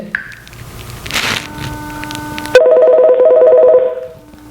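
Phone call tones play through a mini wireless Bluetooth speaker: a few keypad beeps, then a steady repeating ringback tone pulsing in a regular rhythm, close and clear in a quiet room.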